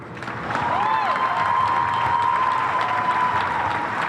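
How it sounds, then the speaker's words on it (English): Steady applause from an audience fills the whole stretch, a dense even clatter of clapping with a faint tonal hum running underneath. "yes, clap for that brother"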